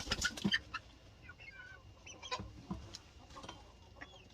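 Several chicken breeds, including Dominique, Bantam Leghorn and Ameraucana, cluck and squawk on a farm in scattered, uneven bursts, with one louder call near the start and softer clucks throughout.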